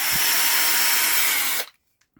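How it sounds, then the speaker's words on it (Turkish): Piranha 12V cordless drill-driver running hard at full speed, a loud steady whine for about a second and a half before stopping abruptly, followed by near silence. "delme yapacak"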